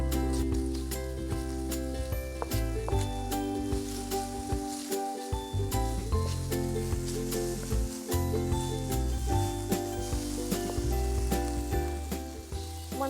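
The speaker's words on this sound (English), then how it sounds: "We're going to turn it back up to medium-high and just wilt these for about 30 seconds." Green onion segments cut into inch-long pieces sizzle steadily in a pan over medium-high heat, a loud continuous crackle with occasional stirring clatter.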